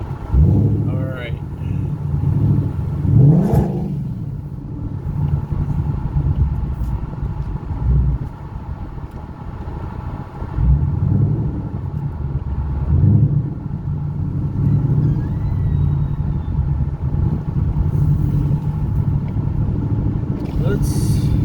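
A 2014 Ford Mustang GT with a newly replaced full exhaust rumbles from inside the car, its deep engine note swelling and easing in a few revs while someone speaks intermittently over it.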